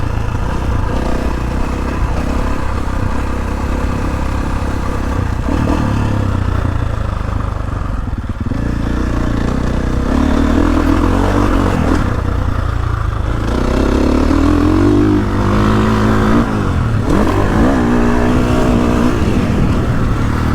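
A KTM 450SXF Full Factory Edition four-stroke dirt bike lapping a motocross track, its engine loud and close throughout, rising and falling as it revs through gears and rolls off over bumps.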